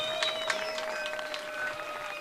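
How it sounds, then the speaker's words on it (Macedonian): Concert audience at a Kočani outdoor festival applauds the musicians, a dense wash of clapping with a few sharp whistles or cheers on top, continuous through the short stretch. "Дайте аплауз за музичарите, не за мене сиги."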